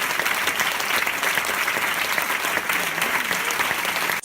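A theatre audience at a Vincent Thomasset performance claps continuously, a dense, even wash of applause that stays loud and close from start to finish.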